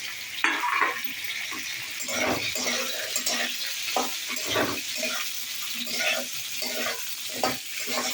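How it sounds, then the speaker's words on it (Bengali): Potatoes dropped into oil after bitter gourd, frying and being stirred in a pan: a sizzling bed with repeated scraping and clattering strokes of a spatula, close and moderate, no speech. "আমার উচ্ছেটা ভাজা হয়ে গেছে, এবার আলুগুলো ছাড়ছি।"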